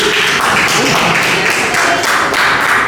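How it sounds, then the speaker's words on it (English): An audience at a high school debate competition semi-final claps steadily in continuous, fairly loud applause with no pauses. "give applause for Go Community"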